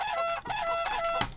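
Cartoonish chicken clucks and crowing squawks from a Polish village-life simulator game, a few rapid bursts close and fairly loud, with no talk over them.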